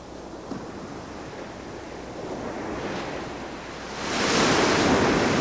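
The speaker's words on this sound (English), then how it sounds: "The waves that crash here are some of the strongest dashing against the United States coastline" Strong ocean surf crashes against a rocky Washington coastline, a steady roar of breaking waves and wind that swells louder and fuller toward the end, with no voices.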